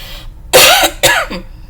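Two sharp, loud coughs close to the microphone, one right after the other, with a short rasp at the end.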